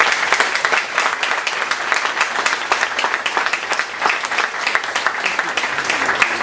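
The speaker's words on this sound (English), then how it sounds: "let's give one big round of applause to all three awardees tonight" Audience applause for three awardees at an evening awards program, a dense, steady wash of many hands clapping that holds evenly for several seconds without talk.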